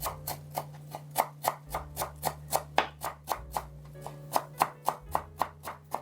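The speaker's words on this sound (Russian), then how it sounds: "Мелко порежу небольшой пучок укропа." A knife finely chopping a small bunch of dill strikes the board in quick, even, crisp taps, about three per second. A low steady hum runs underneath.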